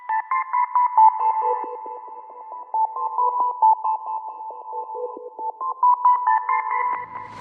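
A dark ambient synth loop of pinging, sonar-like tones repeats with ping-pong delay, the reverb swelling up toward the end of each bar; the notes bounce in a steady rhythmic pattern alone and fairly loud.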